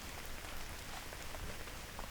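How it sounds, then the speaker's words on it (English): Steady rain falls outdoors, a constant close hiss of drops pattering on surfaces that fills the whole stretch with no voices. "Hey, it's starting to rain, isn't it?"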